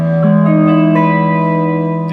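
Gibson ES-137 electric guitar strummed through an amplifier, both volume and tone knobs at 7, a sustained chord ringing out clearly and steadily with no talk.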